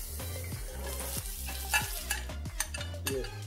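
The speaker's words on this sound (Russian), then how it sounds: "обжарю лук с морковью" Onion and carrot sizzle in a frying pan, heard up close, while a utensil stirs and scrapes them in quick repeated strokes.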